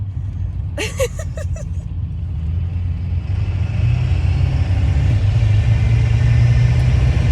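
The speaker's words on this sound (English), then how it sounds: "Yeah, baby, you hear that horsepower?" A car with a stage 3 transmission revs its engine hard, giving a loud, deep rumble that swells and holds. A brief voice-like sound comes early on.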